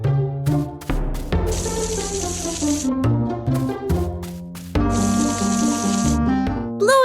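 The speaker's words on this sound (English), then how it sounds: "In the morning, Bluey prepares to water the plants in the garden" Cartoon watering can pouring onto garden plants in the morning: two hissing bursts of poured water, each lasting about a second and a half, over a bright, busy musical score with plucked and sustained notes.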